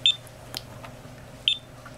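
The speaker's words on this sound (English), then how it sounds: "It beeps." An electronic device gives two short, sharp high-pitched beeps about a second and a half apart, close and clear over a quiet room hum, with a faint click between them.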